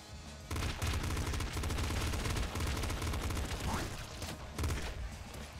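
Shotgun blasts in the video game Nuclear Throne, a rapid barrage of loud, punchy gunfire bursts that keep firing almost without pause, with short gaps and game effects mixed in.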